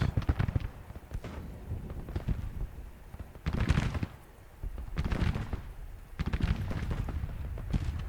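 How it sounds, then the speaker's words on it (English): Civil War artillery booms in the Grand Tactician: The Civil War strategy game, several heavy cannon blasts at irregular intervals amid rumbling battle ambience. "Artillery firing? Yeah, there we go."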